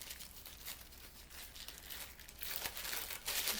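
Tissue paper from a gift bag crinkling and rustling close to the mic, a continuous crackling that grows louder and busier toward the end, with no talk.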